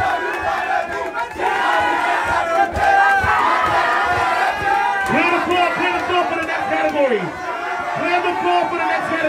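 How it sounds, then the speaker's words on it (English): A lively crowd at a team battle event whoops, yells and cheers continuously, with voices shouting over the din throughout. "Give Ivy Team a round of applause."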